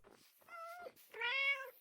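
Two short meows from a cat in the video game Minecraft, the second louder and more nasal, fairly quiet and with no other sound around them.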